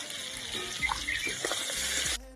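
Eggplant fries in a pan with salt, turmeric and chili powder alongside potatoes for a Bengali fish curry, giving a steady close sizzle with scattered pops and light stirring scrapes.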